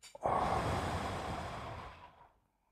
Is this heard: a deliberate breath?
yes